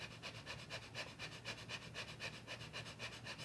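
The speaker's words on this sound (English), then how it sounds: "So breath of fire, the difference is that we are going to be really powering it up through the" Rapid, forceful yoga breath of fire pumped through the nostrils from the navel, a steady train of quick rhythmic breath pulses, close and fairly quiet, with no talking.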